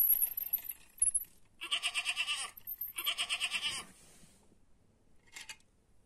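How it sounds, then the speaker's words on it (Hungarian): Several goats bleat on a farm, a run of quavering calls in two bursts with a fainter bleat later, fairly close with quiet pauses between. "Nézzétek, a kecskék is ide értek."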